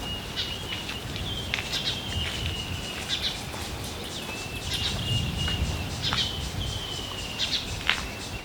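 Weaver birds chirp around nests in a dead tree standing in Sunset Dam at Lower Sabie, Kruger National Park, giving repeated short high calls and twitters over a steady outdoor hiss, with faint insect-like buzzing in the background.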